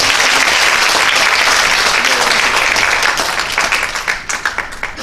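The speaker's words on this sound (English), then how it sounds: "let's give them a thunderous clapping ovation for the World Bank" A conference audience breaks into loud, dense applause that fills the hall, steady and thunderous before starting to thin out near the end.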